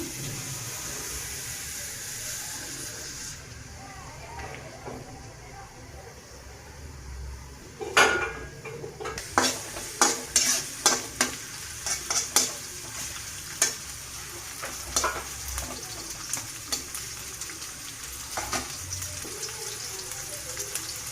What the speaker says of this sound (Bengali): পেঁয়াজ কাঁচামরিচ দিয়ে দিলাম। পরিমাণ মতো তেল দিয়ে দিলাম।